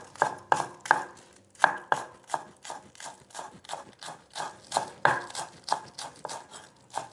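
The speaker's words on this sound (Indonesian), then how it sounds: "kemudian kita potong daun bawang ya teman-teman" A knife chops spring onions on a board in quick, rhythmic taps, about twenty crisp close strikes in a steady, slightly uneven beat.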